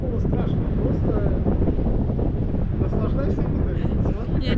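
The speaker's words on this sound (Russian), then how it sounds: "Я не думала, что на высоте такой сильный ветер." Strong wind buffets the microphone throughout a tandem paraglider flight at about 40 km/h over Kunda, Estonia, a steady loud roar with no pause; a voice talks underneath.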